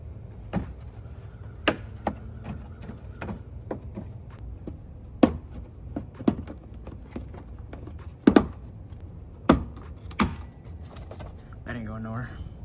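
Plastic interior trim piece and its pop clips being pressed back into place inside a 2022-or-later Subaru BRZ / Toyota GR86, giving a series of sharp, close snaps and clicks spaced irregularly over a low background hum.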